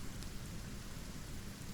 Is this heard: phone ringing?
no